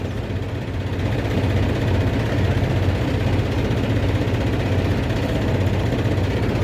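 Mahindra 265 tractor idling steadily while being weighed empty at the Kinauni sugarcane mill, a continuous low diesel rumble close by with no talk.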